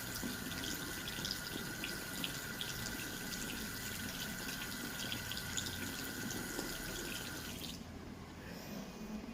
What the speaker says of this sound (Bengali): বরাবরের মতো আমি সেই ডাব সাবান দিয়ে মুখটা ধুচ্ছি